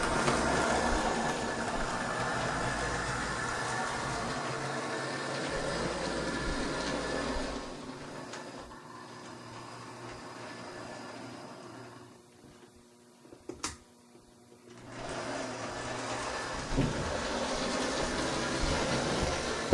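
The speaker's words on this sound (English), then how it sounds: "I'm going to run the SW a little bit down here behind the buildings and so on." A model railroad SW switcher locomotive with an old-style Athearn drive runs on a layout, a steady close mechanical whirring and rattling hum that fades to near silence midway with a couple of clicks, then resumes.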